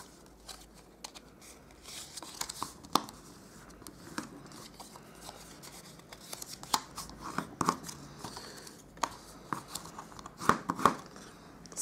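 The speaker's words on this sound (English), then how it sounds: "I'll just grab my scissors and we're going to cut up the score lines." Scissors snip through stiff cardstock along score lines in a series of short, crisp cuts with rustling and handling noises in between, close and fairly quiet.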